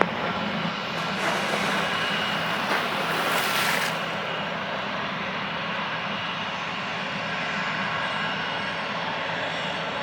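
An American airliner takes off from runway 07 at Sangster airport in Jamaica, a loud, broad jet roar heard from a distance that swells briefly and then holds steady.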